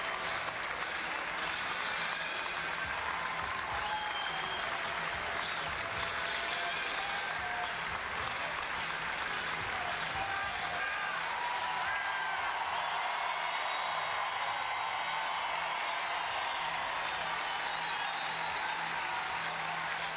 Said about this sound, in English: I think some of the people who are not even LSU faithful are standing and applauding that effort.